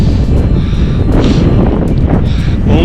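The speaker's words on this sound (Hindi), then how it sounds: "हवा चल रही है बहुत ठंडी।" Cold mountain wind blowing near Om Parvat in the Himalaya gives a loud, constant roar and buffets the microphone with a deep rumble. The gusts rise and fall slightly for about three seconds.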